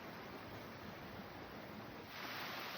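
A rushing mountain stream in the Black Forest, swollen by heavy rainfall, gives a steady broadband roar of flowing water, quiet and continuous throughout.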